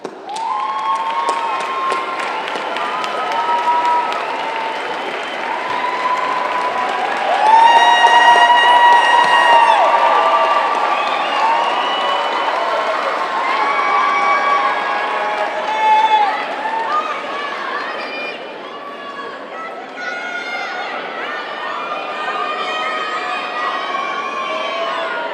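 An audience at a nurse pinning ceremony breaks into sustained applause mixed with cheers and whoops, swelling and then easing over about twenty-five seconds, with a voice speaking over the clapping near the end.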